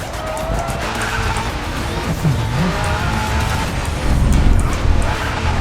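A Bugatti Chiron in the racing game Racing Master tears along at speed, with loud tire squeals and a sliding skid through a corner over a steady, roaring engine, all heard close up.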